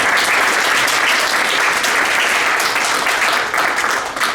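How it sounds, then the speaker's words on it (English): Audience applause at a guild induction and chapter presentation, a loud, dense, continuous wash of many hands clapping with no talk over it. "So give them a round of applause."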